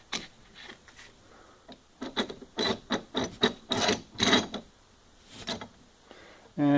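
A used bench vise being spun open and closed by its handle to test the screw, giving a string of rasping, ratcheting metal bursts at close range, each lasting under a second with short pauses between them.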